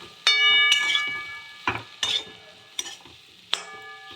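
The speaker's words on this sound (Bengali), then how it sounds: "ভালো করে একটু কষিয়ে নিলাম।" Turnip stirred with Kashmiri red chilli powder and garam masala in a pan, a steady low sizzle broken by several sharp scrapes and clinks of a spatula against metal, close and fairly loud.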